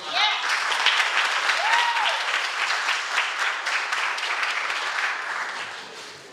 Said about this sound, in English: So big round of applause for you.